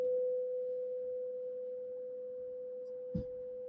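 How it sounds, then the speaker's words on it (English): A steady pure 500 Hz sine test tone from a FNIRSI 2C53P signal generator hums continuously at one pitch, clean and unchanging, with a tiny click near the end. "So there we have a sine wave. So it's a 500 Hertz sine wave."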